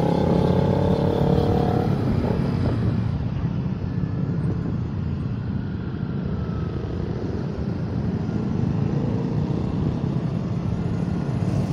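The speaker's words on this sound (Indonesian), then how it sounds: "Oke, kita coba apakah suara knalpotnya masuk." Racing exhaust on a motorcycle at a busy Sunday morning ride meetup in Jakarta, with a loud steady engine roar and rumble running throughout and no clear separate rev spikes.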